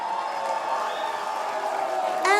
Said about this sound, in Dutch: Morgen even een heel groot applaus.